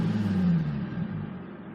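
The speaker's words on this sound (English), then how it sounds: "I'll give it a little bit more of a dab." A Nissan 350Z 3.5-litre V6 engine hums at a raised pitch that slowly falls away as the revs drop back toward idle, steady and close.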